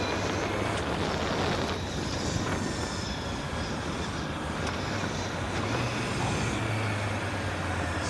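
A 2025 Honda CBR 650R motorcycle with E-Clutch downshifts two gears at speed, its engine drone steady and loud under heavy rushing wind noise throughout.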